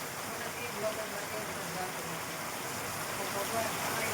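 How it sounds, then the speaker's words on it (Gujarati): Heavy rain pours down in a dense, continuous hiss, steady and broadband throughout. "ભૂકા કાઢે એવો વરસાદ છે આજ"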